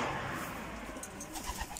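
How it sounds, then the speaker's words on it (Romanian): Pigeons kept in an evening loft coo softly in short repeated low calls, with a few faint chirps and rustling over a quiet hiss. "Vreau să vă arăt puțin Porumbei, cum se mai prezintă, toți bine sănătoși."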